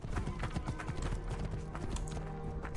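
Horse hooves clip-clop steadily in Assassin's Creed Origins, a brisk rhythmic trot close up over continuous game background sound, with no talk.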